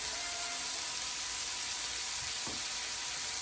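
Chicken thighs searing in a hot pan, a constant broad sizzle heard close, with one brief soft knock partway through.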